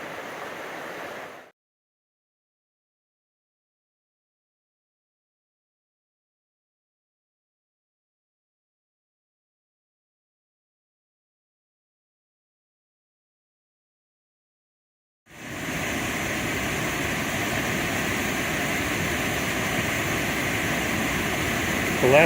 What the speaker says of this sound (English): I've been hearing the Brule River as I've walked along for almost the last hour,